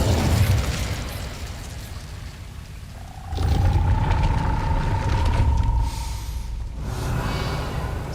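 An Incendio fire spell in the video game Hogwarts Legacy bursts with a loud whooshing roar, followed by a rising tonal hiss of flame and a second surge of rushing fire.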